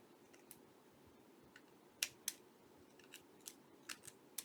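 Small scissors cutting paper or fabric for a handmade journal, a series of sharp, close snips in an irregular rhythm over a faint background hiss.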